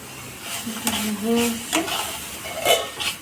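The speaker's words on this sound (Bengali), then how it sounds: "এরকম শুকনো হবে, ভাজা হবে। আর একটু নাড়াচাড়া করবো" Ridge gourd peel paste frying in a pan and being stirred, with scraping utensil strokes and a light sizzle in short irregular bursts, close and moderately loud, no talk.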